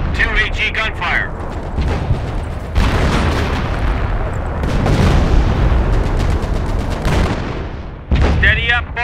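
Artillery gunfire in Company of Heroes, 1944 setting, with heavy booming reports and rumbling echoes layered over radio-style voices of a gun crew giving orders.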